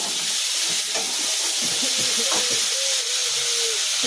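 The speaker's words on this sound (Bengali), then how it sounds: "এই কপিটা যেটা প্রথমে গেল দেখো, সেটা হয়ে গেল ভাজা" Cauliflower pieces fry in oil in a pan with a continuous bright sizzling hiss, close and fairly loud, broken by a few soft utensil taps and knocks.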